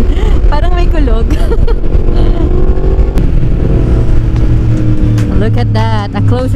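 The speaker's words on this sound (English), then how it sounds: "Sarap pakinggan ang tunog ng backfire talaga nitong MT10 with the Termini exhaust." A Yamaha MT10 motorcycle fitted with a Termini exhaust rumbles loudly and close, with sharp crackling pops over the engine's throb, while someone talks over it.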